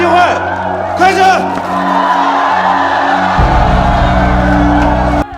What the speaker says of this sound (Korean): 그렇게 세상을 다 가진 듯 환호하는 조직원들